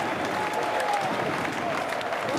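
A football crowd applauds steadily at a cup presentation for FC St. Gallen, dense continuous clapping filling the whole stretch with faint voices mixed in.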